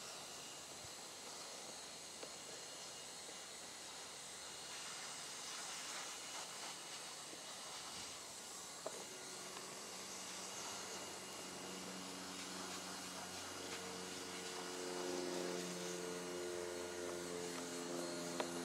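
A hot air welder seals a top hat onto a gas membrane around a pipe penetration, giving a continuous blowing hiss with a faint droning hum that builds toward the end.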